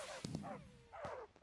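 Tamed dogs in Minecraft (FTB Revelation modpack) give a few quick barks and a short whining yip. The sounds are fairly faint and come in a brief cluster.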